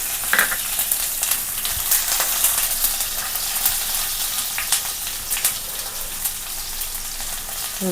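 Garlic fries in a hot pan while cooking an egg thoran with small onions, giving a steady, bright sizzle with crackles and stirring scrapes throughout.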